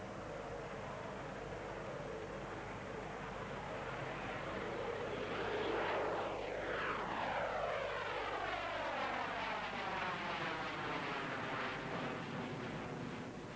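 High-altitude aircraft cruising through the stratosphere at about 20 kilometres, a steady broadband engine roar that holds constant throughout, with a slow sweeping tonal shift partway through and no voices.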